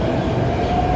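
Metro train rumbling at a crowded platform, a steady loud low roar with a faint sustained whine on top, close and continuous for about a second, no talking.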